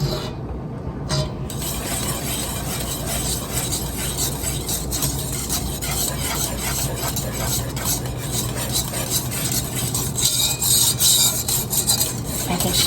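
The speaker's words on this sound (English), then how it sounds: "I'm just whisking continuously to be sure I have everything incorporated" Whisk running continuously through a beef stroganoff sauce made with ground beef in a pan, a steady scraping, swishing rasp that stays even and close throughout, with no talking.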